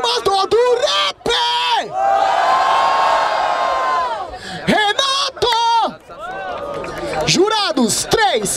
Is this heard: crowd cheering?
yes